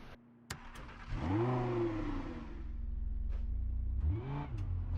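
Car engine in the Test Drive Unlimited racing game, heard alone: an idle hum swells into a loud rev that climbs and falls back, settles into a steady drone, then revs sharply again near the end.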